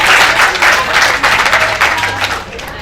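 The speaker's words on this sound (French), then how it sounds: "sous vos applaudissements s'il vous plaît" Loud, close applause from the audience at a talk on violence against women, dense clapping in pulsing waves that thins slightly near the end, with some crowd murmur underneath.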